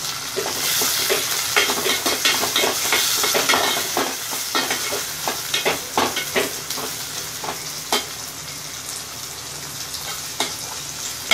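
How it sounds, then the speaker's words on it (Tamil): Tomatoes join onions frying in oil for Tamil kara kuzhambu, giving a loud, continuous sizzle broken by repeated scraping stirs of a spoon against the pan. "இப்போ தக்காளி சேர்த்துடலாம்."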